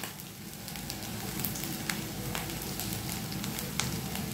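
Bread bhelpuri ingredients frying in oil give a steady, dense sizzle with scattered small pops and crackles rising over it, close and even throughout.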